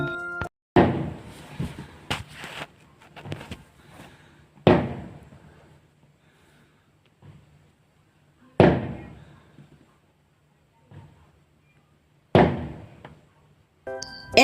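Fireworks going off during November evenings in New Zealand, a series of sharp booming bangs with decaying tails spaced several seconds apart, some distant cracks between them.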